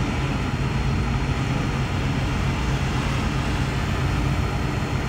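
A drone flying overhead outdoors in Noel, Missouri, giving off a steady, close, continuous buzzing drone for the whole stretch with no talking.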